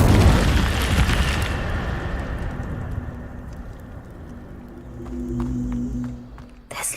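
The Incendio fire spell goes off in Hogwarts Legacy as a loud, rushing burst of flame that fades into a softer crackle and rumble, followed by faint chimes and a second swell.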